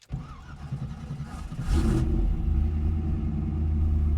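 A car engine with an MSD ignition cranks and fires at about 1.7 seconds, then settles into a steady, loud, rumbling idle for the rest of the clip, with no talk over it.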